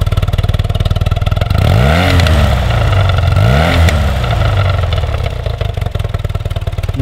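A 1982 BMW R65LS motorcycle engine runs close by, blipped twice into quick rising revs that drop back to a steady, throbbing idle.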